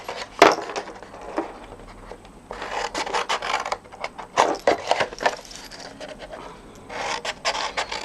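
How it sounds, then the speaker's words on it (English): Scissors snip repeatedly at close range in short, irregular bursts of crisp cutting and rustling against stiff cardstock. "now I'm going to snip into this along all of the short folds"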